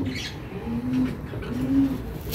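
Young racing homing pigeon cooing in a loft, a few soft low coos in short runs with faint rustling and distant chirps around it.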